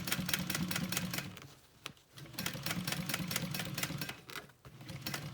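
A sewing machine runs in rapid, steady bursts of stitching while a zipper is sewn onto a mini backpack, with a brief pause near the middle. The machine is loud and close, with no talking.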